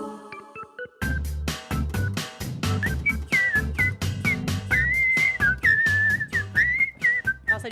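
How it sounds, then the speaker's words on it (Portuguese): Bright melodic whistling carries a cheerful tune over a rhythmic musical backing, loud and continuous, on a Brazilian morning radio show. "Você vai sair pra rua dando uma assobiada"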